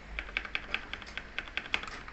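Quick bursts of keystrokes on a modded Red Dragon K530 mechanical keyboard, about a dozen crisp clacks in an uneven rhythm, close and fairly quiet with no talking.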